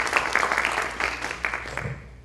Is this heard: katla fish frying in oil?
no